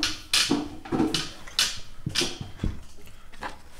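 Metal scope mount body for an airgun, an MTC AS 30 adjustable ring set, sliding along a rail with several short scraping, clicking bursts close up, no talking.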